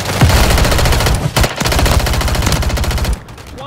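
Rapid automatic gunfire in the video game Warzone 2, a loud sustained burst of closely spaced shots with a brief gap before the firing resumes, then cuts off near the end.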